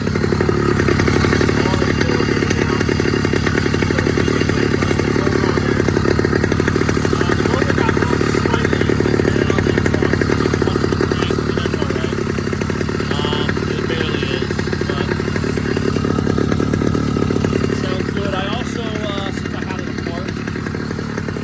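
An 80cc two-stroke motorized bicycle engine buzzes loudly and steadily at close range on a test ride, a raspy, high-revving drone that holds nearly constant before easing slightly at the end.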